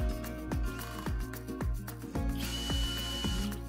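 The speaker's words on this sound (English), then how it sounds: "Assembling the battery mount bracket." Steady whirring power tool with rhythmic ratcheting clicks, about two per second, while an e-bike battery mount bracket is assembled, loud and close with a brief higher whine partway through.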